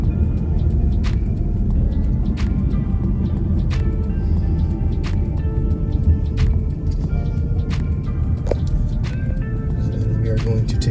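A steady, loud rumble of a car driving along roads in South Venice, Florida, heard from inside the cabin, with a constant low drone, scattered small clicks and ticks, and someone talking over it.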